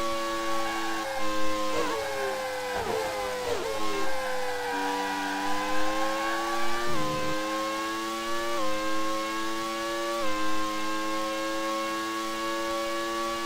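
Whining racing-car engines from the video game Grand Prix 2, high tones sliding up and down as gears shift, with several cars droning continuously together.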